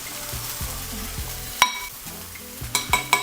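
Garlic sautéing in a hot pan for cheesesteak, a steady close sizzle with repeated scraping stirs of a utensil against the pan and a few sharp clinks near the end.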